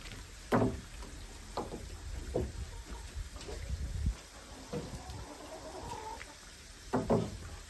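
Chickens cluck and make short calls in a coop, a few sharp clucks spread out across the moment, with softer rustling and scattered low sounds between them.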